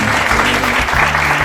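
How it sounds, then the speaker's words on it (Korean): A studio audience at a Korean broadcast gives a couple a short, loud, dense round of applause, with a faint low hum underneath. "두 분께 박수 부탁드립니다."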